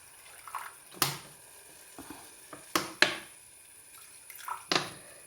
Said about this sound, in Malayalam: ഇനി വിനാഗിരി ഒഴിക്കാം